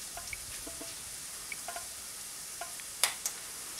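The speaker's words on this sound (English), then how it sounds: "Once the onion and garlic have fried a little bit, you add the courgette." Onion and garlic fry in a pan with a quiet, low sizzle. A few small pops and ticks are scattered through it, and a sharper crackle comes near the end. No one speaks.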